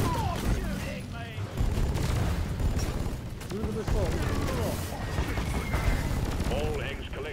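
Video game gunfire crackles in dense bursts and rapid volleys throughout, with explosions mixed in and voices talking over the battle.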